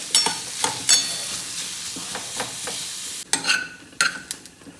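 Onions fry in a little oil until golden brown and caramelised, a steady close sizzle broken by several sharp scraping stirs of a spoon against the pan, with no talking.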